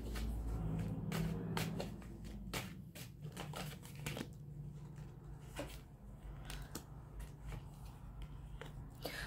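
Tarot cards being shuffled and drawn, a quiet series of riffling, tapping card snaps at an irregular pace, close and soft over a low background hum.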